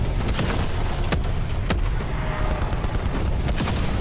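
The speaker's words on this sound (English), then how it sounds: "I'm shooting him in his ass!" Heavy gunfire rumbles through a video game battle, a dense, booming wash of repeated shots and impacts that never lets up.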